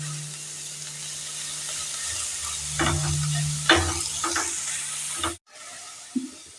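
Cabbage for payesh fried and stirred over a low flame, giving a close, steady sizzle with a few scraping stirs and a brief cutoff near the end.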